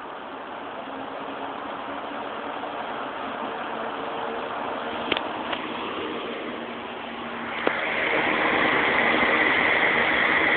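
A Galaxy electric box fan runs with a steady airy whir. A couple of sharp clicks come as it is switched, and it then rises to a louder, slightly higher hum near the end.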